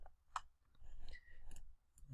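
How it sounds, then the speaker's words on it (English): A single faint mouse click on a computer's Save button, quick and sharp in an otherwise quiet room. "Now if I click the Save button up here"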